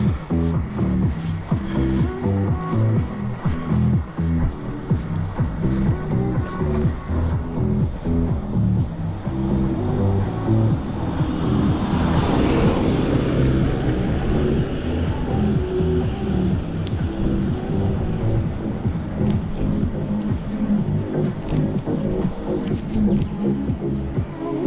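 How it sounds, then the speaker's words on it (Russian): Car engine revving behind an electric bike on a climbing road near Yalta, a steady throbbing drone with rising engine swells throughout, continuous and moderately loud over road and wind noise. "Газует кто-то на машине сзади."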